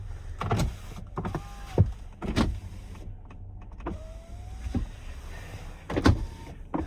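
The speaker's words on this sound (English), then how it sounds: "All windows work." Power windows on a Chrysler Pacifica Limited run up and down in turn, with several short whirring motor strokes and clunks as each glass stops, heard close inside the vehicle with quiet pauses between.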